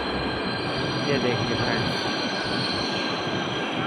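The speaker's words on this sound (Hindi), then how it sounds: "हमारी मेट्रो आ चुकी है" A metro train pulls into an underground station on a city line, its steady rumble and wheel hiss filling the platform throughout while someone speaks over it.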